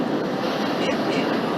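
A New York subway train in the OpenBVE simulator gives a low, steady rolling rumble with a hissy upper layer, heard under a person talking.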